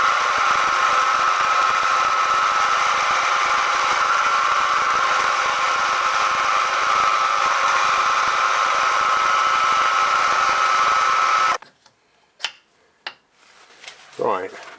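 Drill press spinning a countersink bit to scribe lines on metal for crankshaft balance weights, a steady motor hum running loud and continuous, then cutting off abruptly, followed by faint clanks and brief handling noises.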